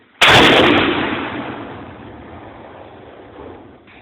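A 120 mm mortar fires once during a live-fire military drill, a sudden loud blast with a long rumbling decay that fades over several seconds, with no voices.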